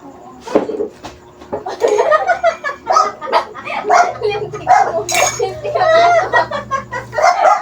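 A dog barks and yips repeatedly at a distance on a Saturday afternoon in a neighbourhood, mixed with people talking, children's voices and a rooster-like call in a busy outdoor setting.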